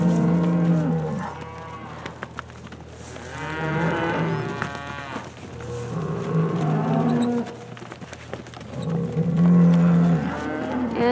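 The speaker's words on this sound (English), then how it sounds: "Oh, the other cows are all jealous." Several cows moo loudly and close by, long drawn-out calls repeating every few seconds over steady low barn noise.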